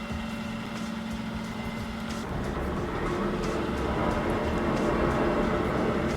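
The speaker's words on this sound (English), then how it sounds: "there's a really noisy truck outside" Noisy truck passing outside a room, a low rumbling drone that builds gradually and grows slightly louder toward the end, heard faintly through the walls with no voices.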